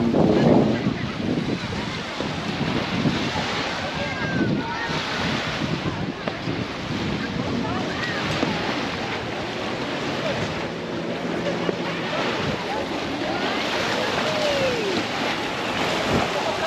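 Steady surf washing onto a beach, with a continuous broad roar of breaking waves and heavy wind buffeting the microphone throughout.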